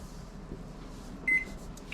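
A kitchen timer being set while goulash cooks, giving a single short electronic beep over low kitchen background noise.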